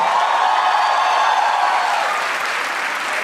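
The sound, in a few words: audience applause for a special guest at a stand-up comedy show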